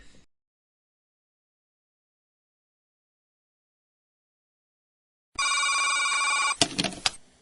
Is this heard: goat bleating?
no